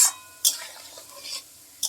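Small fried dough nimki are stirred in hot oil over a low gas flame, with sharp spoon scrapes against the pan at intervals over a faint sizzle.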